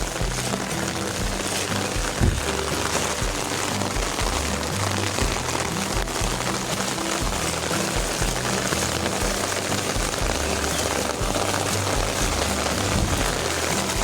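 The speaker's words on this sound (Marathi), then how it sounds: "परत चालू झालाय पाऊस" Continuous early-morning monsoon rain in a Konkan village pours down, an even, dense hiss and patter that holds steady from start to finish with no voices.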